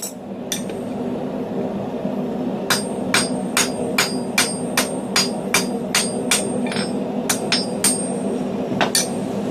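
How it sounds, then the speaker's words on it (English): A blacksmith hammers a tapered punch through hot steel while forging tongs, producing a steady series of sharp metallic hammer strikes in regular rhythm over a low background hum. "Since the punch is tapered, I alternate between one side and the other, and that helps give me a much more consistent hole size."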